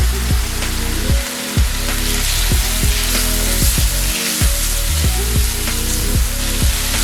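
Chopped garlic going into a frying pan for an Italian cream sauce, giving a steady crackling sizzle under repeated clanking, stirring tool knocks and rhythmic pulsing background sounds.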